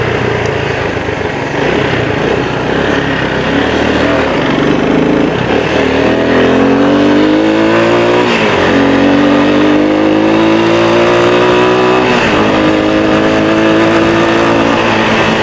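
Motorcycle engine running loud and close along MacArthur Highway near Balibago, steady drone with pitch rising and falling through several gear shifts and throttle changes, no talk.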